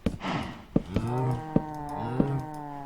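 Cattle mooing in Minecraft: several drawn-out, close bovine lowing calls, with a few sharp clicks scattered between them and no talking.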